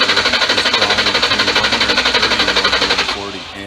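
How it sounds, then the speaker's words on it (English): A car's starter motor cranks the engine in a fast, even rhythmic chatter of repeated pulses, loud and close, before it slows and fades in the last half second. "Then I'm going to crank the car."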